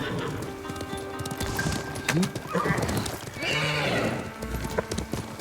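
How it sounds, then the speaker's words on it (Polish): A horse in Ghost of Tsushima neighs loudly and clops along, a whinny rising mid-clip over hoofbeats and game ambience, with a voice talking faintly at times. "Dajcie mnie konia"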